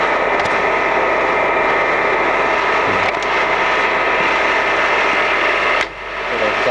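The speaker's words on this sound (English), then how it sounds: "there's our lead screw and feed shaft running" Lead screw and feed shaft of a Colchester Mascot 1600 centre lathe with a 2000 mm bed turning steadily, giving a continuous mechanical whir and hum with faint periodic clicks, close and fairly loud.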